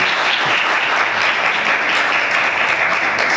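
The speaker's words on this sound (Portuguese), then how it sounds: "Vamos dar uma glória a Deus e aplaudir o nome do Senhor" Steady, loud applause from a church congregation fills the whole stretch, a dense continuous patter of many hands clapping with no voices rising above it.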